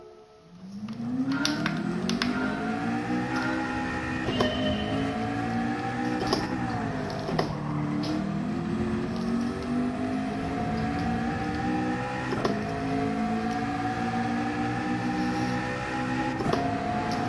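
A car engine revs up from low and climbs to a high, sustained whine that wavers with repeated rising pitch sweeps, loud and close, with no talking.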